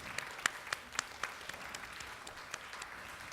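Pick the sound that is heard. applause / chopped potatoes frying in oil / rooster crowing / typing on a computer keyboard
applause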